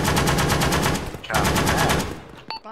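Rapid automatic gunfire in ArmA fires in fast, loud, close bursts. There is a brief pause in the middle, then another burst, and a short trailing clatter at the end.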